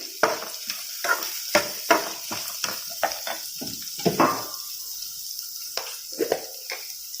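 Potato and cauliflower pieces fry in a pan, with a steady high hiss under a series of scraping stirs and clinks of a spoon against the pan, close by.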